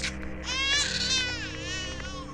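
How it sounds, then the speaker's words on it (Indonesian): A baby crying through a walkie-talkie in the 2006 horror film The Hills Have Eyes, a high, wavering wail in repeated rising and falling bursts over a low background rumble. "Ternyata itu suara si bayi."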